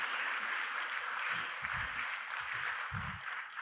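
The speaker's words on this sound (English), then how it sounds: "Can we give them a round of applause because they are the secrets to my success" Graduation ceremony crowd at the International Institute of Health Sciences applauding continuously, a broad steady wash of clapping heard from a distance, with some low thumps mixed in.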